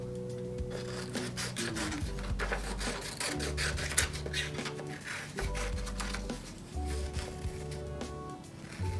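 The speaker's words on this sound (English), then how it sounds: "And do the same thing where I cut out a circle." A paper circle is cut out for a mosaic craft, giving soft, steady close cutting and rustling sounds at low volume.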